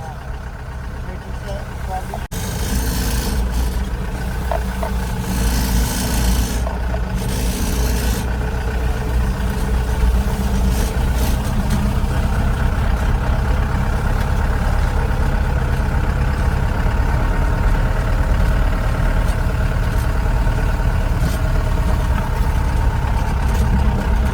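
A tractor's diesel engine idling with a steady, low rumble close by, continuous throughout, with voices heard over it at times.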